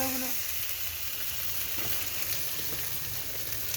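Garam masala and soybeans sizzle steadily in hot oil as they are fried and stirred, a close, continuous crackle with faint scraping and no talking.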